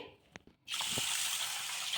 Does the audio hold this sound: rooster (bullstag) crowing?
no